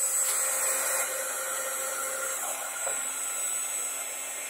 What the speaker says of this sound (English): And then we're going to go on with our heat gun. So it's going to be loud here for a minute,